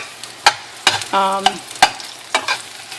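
Vegetables cook down in a pan with scattered sharp clicks and scrapes of stirring over a low sizzle, loud and close, with a brief ringing utensil clink in the middle.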